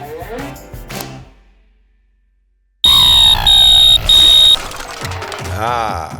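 A loud, shrill electronic alarm beeps in steady pulses after a brief silence, with a voice speaking before and during it.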